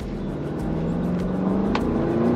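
A 2022 Bentley Bentayga S accelerating in sport mode, its engine note rising steadily in pitch and growing louder over a couple of seconds, heard from inside the car.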